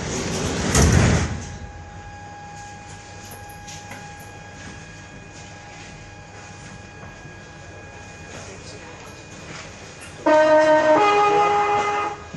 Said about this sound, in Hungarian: Kérem, vigyázzanak, az ajtók záródnak.